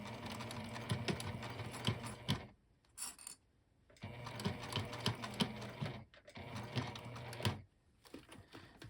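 A hand-cranked sewing machine stitches through many thick layers of a sling bag, producing quiet rhythmic mechanical clicking and knocking in bursts, broken by two short pauses.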